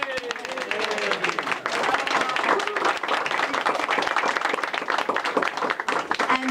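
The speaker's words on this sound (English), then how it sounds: "If we could have a round of applause." An audience at an art exhibition opening applauds the presenting artists, a full crowd clapping with bright, dense hand claps that stay steady throughout while a few voices murmur beneath.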